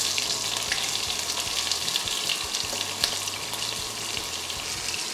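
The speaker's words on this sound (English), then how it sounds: "I'm going to put the onions in now." Onions dropped into hot oil with a bay leaf fry in a pan, giving a steady moderate sizzle with scattered crackles and occasional clicks of a utensil, no voices over it.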